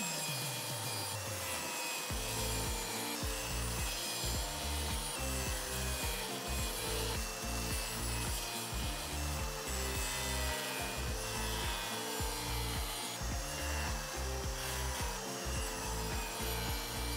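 A handsaw cuts shelf slots into a wooden rack divider with steady, rhythmic back-and-forth strokes, close and continuous throughout, with no voices.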